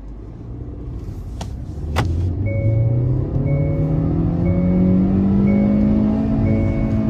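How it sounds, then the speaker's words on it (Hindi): A 2024 Hyundai Verna sedan pulls hard in first gear, its engine note climbing steadily in pitch as revs rise toward the limiter, loud and close from inside the cabin with no talk. "सो मैंने पहला गियर लगा रखा है और चेक करते हैं कि पहले गियर में कितना स्पीड जाती है"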